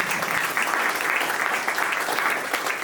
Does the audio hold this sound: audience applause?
yes